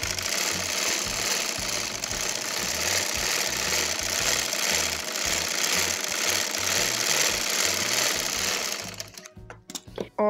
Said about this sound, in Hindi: इसे भी हम डबल सिलाई लगा लेंगे।